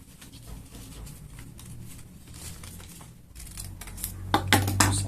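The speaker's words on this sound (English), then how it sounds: "You just have to cut out a rectangular piece like this." Scissors cutting a rectangular piece out of paper for a DIY paper mask, soft snipping and rustling near the end, close and fairly quiet against a faint background hum.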